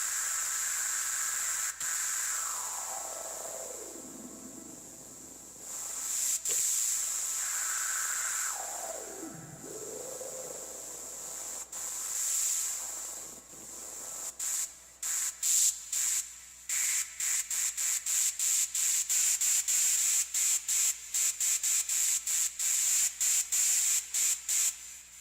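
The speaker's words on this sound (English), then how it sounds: "I don't know why there's so much noise in these oscillators." Noisy hi-hat synthesizer oscillators on an Elektron drum machine give a sustained hiss with sweeping filtered tones, then a rapid run of short, evenly spaced noise bursts near the end, with no talking.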